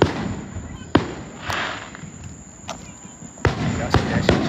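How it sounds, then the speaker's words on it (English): Fourth of July fireworks pop and crack at a distance, with a handful of sharp bursts scattered irregularly over a steady background hum. "Got the fireworks out."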